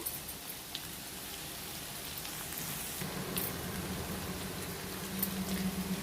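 Sliced onions frying with pieces of chicken in a Telugu-style chicken fry, giving a steady, dense sizzle like rain that stays even and close and grows slightly louder midway, with no talking.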